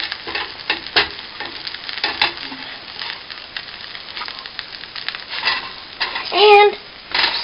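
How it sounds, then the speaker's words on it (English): Pancake frying in a pan on the stove, giving a soft, steady sizzle with occasional crackles and a spatula scrape near the end, heard close and fairly quiet. "Hear that sizzle? That's the sound of a pancake in the making."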